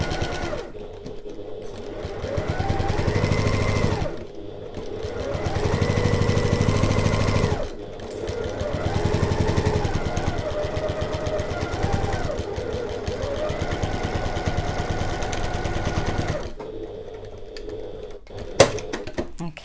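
Sewing machine stitching an open-top tote bag, running in several sustained bursts with short pauses between them, close and fairly loud, a voice speaking over parts of it.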